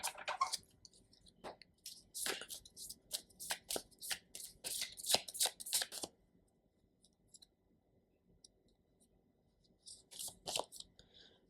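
A deck of oracle cards being shuffled up close, a quick run of crisp riffling bursts for about six seconds, a quiet pause, then another short burst of shuffling; no one speaks.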